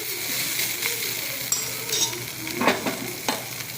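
Anchovies (nethili fish) fry over a low flame with a steady close sizzle, broken by a few stirring scrapes and light clinks of a utensil against the pan.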